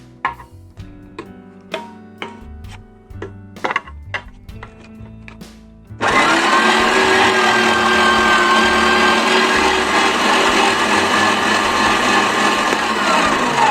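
A Stilevs meat grinder mincing peppers for pepper paste: a few knocks and clunks while loading, then the motor starts abruptly into a loud, steady whirring grind that runs continuously.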